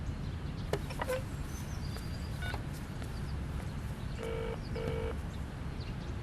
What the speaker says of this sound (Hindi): फोन लगाओ जरा